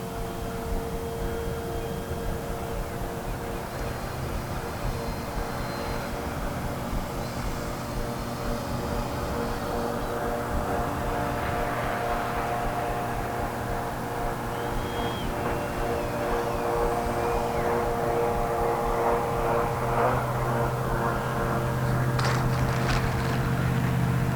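A Freewing Yak-130 RC model jet hums with a steady electric ducted-fan whine that grows slightly louder near the end, set against a constant outdoor wind-like hiss.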